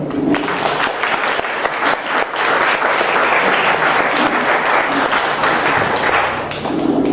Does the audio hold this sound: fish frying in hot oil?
no